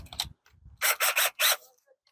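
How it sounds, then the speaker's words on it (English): A hand screwdriver turns a bolt into threads during a rear strut replacement on a Chevrolet HHR. Three or four crisp, separate ratcheting clicks sound close and loud, after faint handling noises and with no voices. "That's why I have a hand screwdriver."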